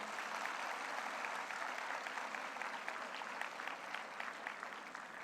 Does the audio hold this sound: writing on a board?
no